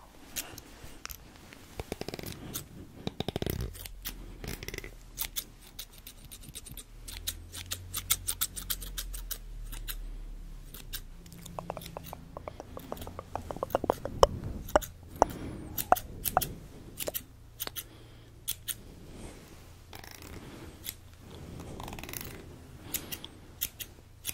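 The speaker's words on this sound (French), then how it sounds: "Je coupe les pointes, je coupe les pointes alors." Barber's scissors trim the tips of hair in a salon, crisp snips coming close up in quick bursts and scattered single cuts, with quiet handling noises between them.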